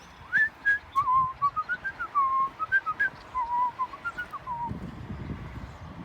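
A shrill whistled tune, like the Iron Brigade's fife theme at McPherson's Ridge, plays as a wavering melody of short notes and longer held tones, fairly clear and close, then fades into low rumbling noise near the end.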